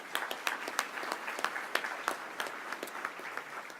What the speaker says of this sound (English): Give those folks a round of applause.